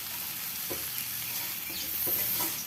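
Spice paste with shrimp paste for sautéed winged beans and tempeh sizzles steadily in a pan, with a few soft scrapes of stirring over the constant frying hiss.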